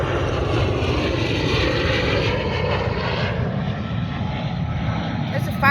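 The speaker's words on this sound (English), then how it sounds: "There's a lot of fighter jets coming through." Fighter jets passing overhead as a continuous loud, broad roar of jet engines that holds steady throughout, with faint voices under it.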